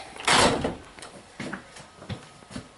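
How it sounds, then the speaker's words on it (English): Door being closed inside a historic building, with metal bolts sliding through: a loud initial clunk followed by several fainter, spaced knocks and rattles, close by and with no talking. "Because when you go ahead and close the door,"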